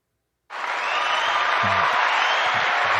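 Canned applause from a clap sound-effect button, starting abruptly after a short silence and holding as a dense, even wash of clapping, with a few low voice bursts underneath.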